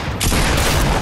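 Gunfire in the video game Fortnite: a loud, dense burst of rapid shots and booms fills a single second, up close and continuous.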